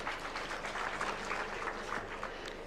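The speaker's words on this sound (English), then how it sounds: "let's clap for them" An outdoor audience at a trade fair in Nairobi claps steadily, a dense continuous spatter of hands that holds at an even level for a few seconds with no voices over it.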